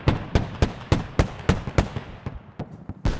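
Repeated sharp blasts from an ATGM strike and follow-up Bushmaster cannon fire on a Bradley fighting vehicle in a military video game, about a dozen loud cracking impacts in an uneven rhythm, fairly close.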